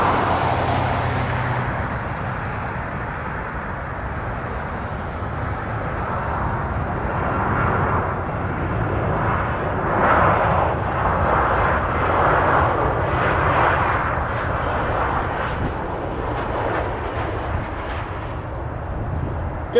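An Emirates airliner lands at Toronto Pearson, a loud engine roar sweeping down in pitch at first, then a surging rumbling wash with pulsing swells, no talking.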